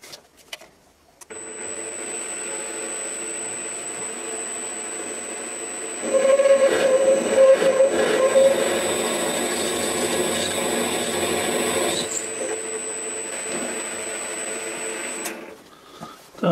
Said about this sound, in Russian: Прям сразу 12-м сверлом мы будем сверлить.